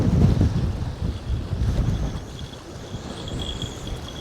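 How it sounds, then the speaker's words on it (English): Wind blowing at a harbour on a cold day, buffeting the microphone as a steady rough low rumble with gusty swells, close and fairly loud, with no talk. "That wind's getting up and it's cold."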